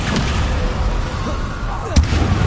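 Descendo spell cast in Hogwarts Legacy, a sharp whooshing burst with a thudding impact near the end, standing out over a dense steady background of game ambience.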